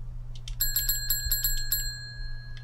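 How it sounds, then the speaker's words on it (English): A bell rings in the video game Never Go Out Alone, a quick run of bright, metallic bicycle-bell dings over a steady low hum, fading after the last strikes. "Ooh, bell."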